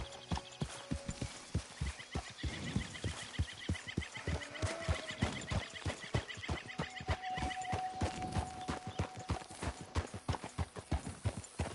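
A horse in Red Dead Redemption 2 moves in a rapid, rhythmic hoof clip-clop with a few neighs and whinnies over the top, close and fairly quiet, amid game ambience with faint bird calls.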